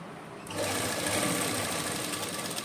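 An electric sewing machine stitching lace onto cloth starts up after a short pause and then runs at a steady, fast, rattling whir, close and clear, with no talking over it.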